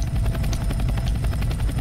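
Steady helicopter rotor whir and engine drone in the video game Breaking Point, a loud continuous chop with dense low rumble and no pauses.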